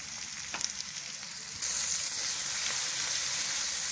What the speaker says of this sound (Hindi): अब इन तमाम चीज़ों को अच्छी तरह से भून लेंगे। मसाले को अच्छी तरह से भून लेंगे जब तक कि ऑयल ना छोड़ दें।